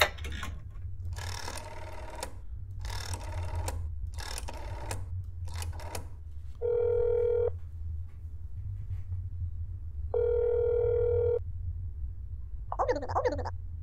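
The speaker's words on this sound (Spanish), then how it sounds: "Llamamos al teléfono." A telephone ringing in the horror game That's Not My Neighbor: two long electronic ring bursts with a pause between them, following a series of short keypad tones and ending in a warbling beep, over a low background drone.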